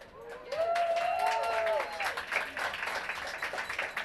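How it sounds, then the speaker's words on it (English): Applause from the audience at a women-focused gathering, broad clapping spread across the clip, with a faint whistle-like tone rising over it early on and crowd noise continuing underneath. "Please give a big round of applause just for showing up."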